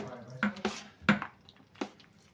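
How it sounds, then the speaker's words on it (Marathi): Ground dal batter and idli rava are mixed in a pot for Telangana-style idli, giving a few sparse, close clinks and scrapes of a utensil against the metal pot with quiet gaps between. "आता आपण हे मिक्स करून घेऊया डाळ आणि आपला"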